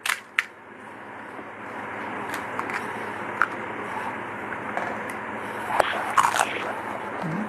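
Crunchy panipuri being bitten and chewed close up, a couple of sharp cracks at the start followed by steady, moist crunching and munching with occasional louder crunches.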